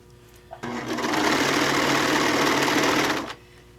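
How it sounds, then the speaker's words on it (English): A serger sewing machine stitches fat-quarter fabric for a six-pack tote bag, a loud, close, steady whirring burst of about three seconds that starts and stops abruptly. "and we are going to serge."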